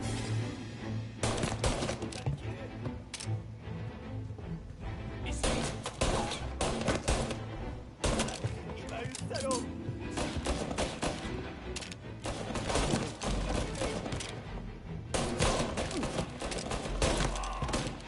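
Gunfire from the game Mafia: Definitive Edition, with loud, dense bursts of shots and rapid volleys hammering on almost without a break, punctuated by heavier thuds and impacts.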